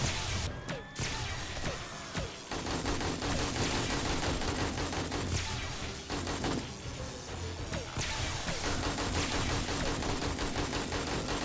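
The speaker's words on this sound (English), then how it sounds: "That's a lot of gunfire." Dense, sustained gunfire in 7 Days to Die (Alpha 20, Darkness Falls mod), rapid bursts and automatic fire layered over a busy background for the whole stretch, loud and continuous.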